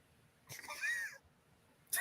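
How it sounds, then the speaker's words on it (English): A cat gives a single faint, drawn-out meow with a rising then falling pitch, fairly close in a quiet room, followed by a brief sharp noise at the end. "There's a cat."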